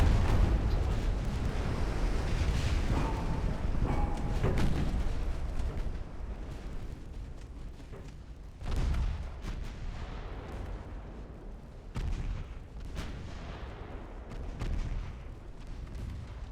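Naval gunfire from the Ultimate Admiral Dreadnoughts warship game: loud, rumbling cannon booms and shell impacts rolling over one another, with several heavy blasts standing out against a continuous roar of battle.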